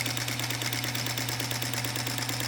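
Singer Featherweight sewing machine running steadily while free motion quilting a practice piece, a fast even mechanical stitching chatter with a low motor hum throughout, close and continuous.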